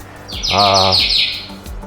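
A pet bird from a home flock that includes a macaw gives one loud, close chirp lasting under a second, with quiet room sound before and after.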